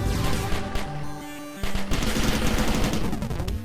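Upgraded pistol-type gun in the indie roguelite platformer Cally's Trials firing double bullets, heard as a steady burst of rapid, loud shots over game music with a brief gap partway through.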